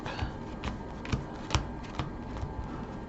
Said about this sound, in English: Gonna shuffle it up.